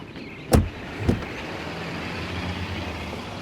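A car pulls in to park, with two short thumps in quick succession over a steady low engine hum that runs on to the end.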